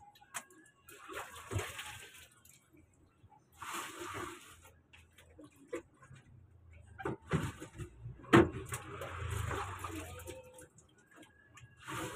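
Water pours and splashes into a pot in uneven bursts while adding water for hand-washing laundry, mixed with clattering noises and a few sharp knocks, with some talking in between.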